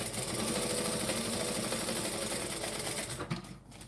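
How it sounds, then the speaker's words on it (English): A sewing machine topstitches textured vinyl, running in one steady, rapid mechanical chatter at close range before slowing and stopping just at the end. "Then I'm gonna top stitch so it looks pretty."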